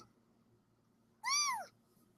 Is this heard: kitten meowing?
yes